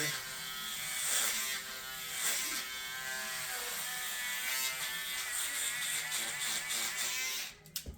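Steady electric buzzing from hair clippers with a weak, draining battery, running continuously at close range and cutting off near the end.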